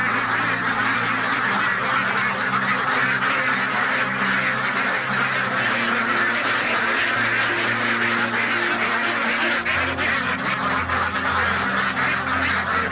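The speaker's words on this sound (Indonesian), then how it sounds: "Bebeknya ini saya cek dulu." Ducks on a duck farm quack and honk in a dense, continuous flock chorus that stays close and fairly loud throughout, with no talk over it.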